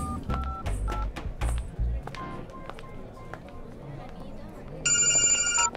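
A telephone rings near the end of a dubbed film scene, a bright repeating electronic tone that rises loudly over the last second, after stretches of people talking.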